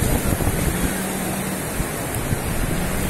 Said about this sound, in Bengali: ভয়ঙ্কর ঢেউ, ভয়ঙ্কর সুন্দর